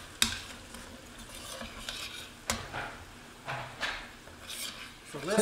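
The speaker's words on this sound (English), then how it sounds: "And our black pepper. Stir that in." Spoon stirring black pepper into carbonara sauce in a pan, close scraping strokes and soft swirls at an uneven pace over a faint sizzle, with a voice entering briefly at the end.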